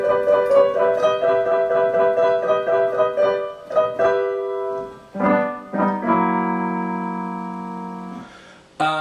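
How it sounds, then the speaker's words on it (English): A quirky, happy musical theme for a puppet character plays as bright, plucked tonal notes in a bouncy rhythm, then moves into longer sustained chords before ending abruptly. "the theme that I use for the character of the Doctor Puppet"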